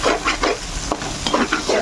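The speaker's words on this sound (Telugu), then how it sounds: "ఇలా వంకాయ ఎగ్ ఫ్రై చేసుకోండి" Eggplant and egg fry in a hot pan, a loud sizzle broken up by repeated scraping stirs that come in quick bursts, with no talking.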